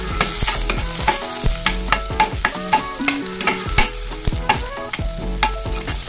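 Onion sautéing with ginger in a pan for fish escabeche, a steady sizzle broken by frequent scraping stirs of a spatula, close and fairly loud, with no talking.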